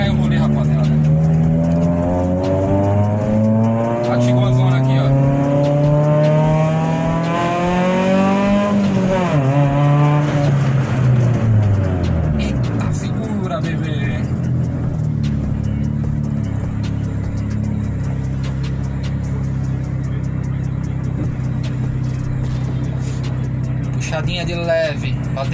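A Chevrolet Celta 1.0 VHC-E naturally aspirated car, lightened by 58 kg, drives with its engine rising and falling through revs in a loud steady drone, heard from inside over a continuous road rumble.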